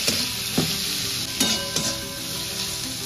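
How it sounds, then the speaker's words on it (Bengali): Chopped onion with salt frying in oil with a bay leaf, a dense continuous sizzle with several scraping stirs of a spatula against the pan, close and without speech. "এবার পেঁয়াজ কুচি দিচ্ছি, একটু লবণ দিয়ে দিচ্ছি যাতে পেঁয়াজটা নরম হয়ে যায় তাড়াতাড়ি।"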